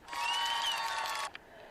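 A short burst of recorded applause played from a button on a GO:LIVECAST streaming device, a dense crowd clapping that stops abruptly after just over a second.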